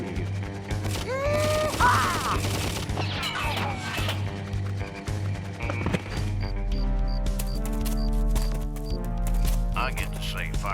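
Gunfire and crashing hits in the point-and-click game Full Throttle Remastered: a loud burst of shots and impacts over background game music, with characters' voices speaking nearby.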